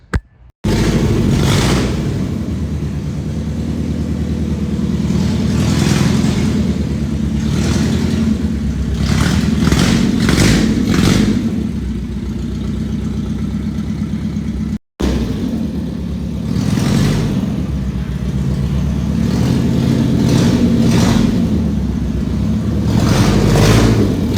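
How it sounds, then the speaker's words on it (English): A Nissan 240SX with a swapped 1UZ V8 engine moves back and forth, its engine idling and revving in bursts across repeated short clips, loud and near with no talk. "I hope you enjoy these little clips of the car moving back and forth"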